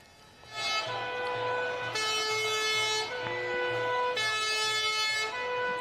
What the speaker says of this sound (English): So we can hear the sirens going there.